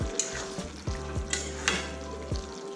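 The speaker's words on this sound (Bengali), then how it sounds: "তুলে নিয়ে একটা খুন্তি দিয়ে আমি এই চচ্চড়িটা আবার ভালো করে নাড়াচাড়া করে দিচ্ছি।" A spatula stirring a Bengali jackfruit seed and khoira fish chorchori in a pan, with about four rhythmic scraping strokes over a close, continuous sizzle and no voices.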